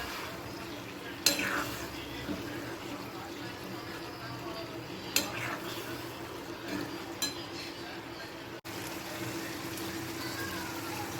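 Ivy gourd (tindora) curry is stirred as it fries in oil in a pan, with a soft continuous sizzle and occasional scraping clinks of the spoon against the pan, fairly quiet.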